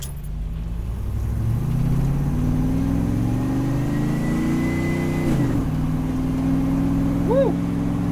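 An International Scout with an LS engine swap drives along, its engine droning and rising in pitch through the gears, a near steady rumble with a brief dip before climbing again, plus a light rattle.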